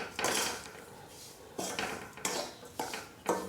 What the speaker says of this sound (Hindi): फ्लेम बंद करके थोड़ी देर मसाले को ऐसे ही चला देंगे कढ़ाई में